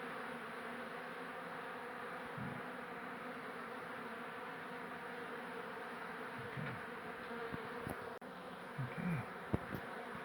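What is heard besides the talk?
bees buzzing in a bathroom beehive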